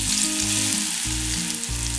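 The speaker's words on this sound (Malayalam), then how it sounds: "പയർ വറുത്തിടാൻ വേണ്ടിയിട്ട് ഉള്ളിയും മുളകും ചതച്ചത് ഇട്ട് കൊടുക്കാം." Crushed onion and chilli frying in hot oil for a Kerala chatti choru, a steady, close, loud sizzle throughout with a low rhythmic stirring underneath.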